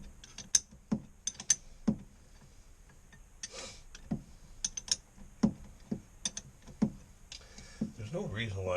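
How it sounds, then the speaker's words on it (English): An open-end wrench works slowly on a nut of a boat transmission, making scattered close metallic clicks and clanks at an irregular pace, with quiet background noise between strikes. "So it's just slow and steady with an open-end wrench."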